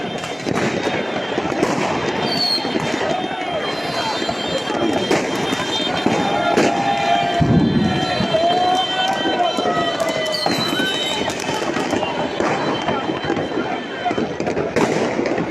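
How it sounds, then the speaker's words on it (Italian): New Year's fireworks bursting over a crowded Piazza Yenne in Cagliari for the start of 2022, dense crackling and booming throughout with constant crowd noise and talk underneath. "Fuochi artificiali"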